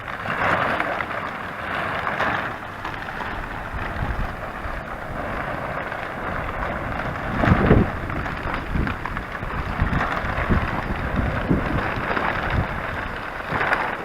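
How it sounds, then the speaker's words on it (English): Wind blowing outdoors around a greenhouse, a continuous broadband rushing roar with gusty swells and microphone buffeting, steady throughout with a stronger gust partway through. "Right now the wind is blowing north"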